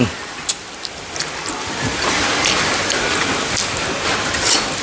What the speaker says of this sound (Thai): เสียงฝนปกแปกปกแปก